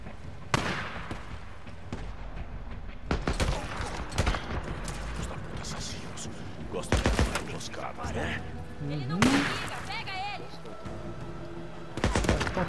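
Intermittent bursts of heavy gunfire from a Days Gone gameplay scene, sharp volleys scattered across the stretch with quieter gaps between, mixed with game sounds and voices talking.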